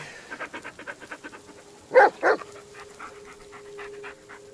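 A dog pants steadily in the Blair Witch video game, with quick rhythmic breaths and a pair of louder yips or whimpers midway, close and alone.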